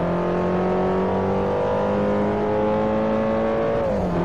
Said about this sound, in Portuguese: Eles têm muito capricho no som dos carros.